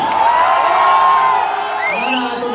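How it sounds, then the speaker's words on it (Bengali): A crowd at Mohan Mall in Berhampore cheers and whoops loudly in a sustained burst, voices rising and falling together with a few higher shouts. "আরেকবার মোহনমহলের জন্য জোরে হাততালি শুনতে চাই"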